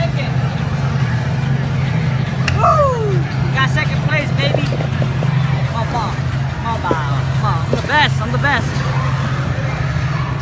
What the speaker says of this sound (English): I'm actually driving a Lamborghini.